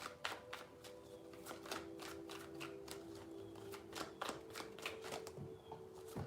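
Tarot cards being shuffled by hand, close and soft: a steady stream of quick flicking riffles over a faint background hum.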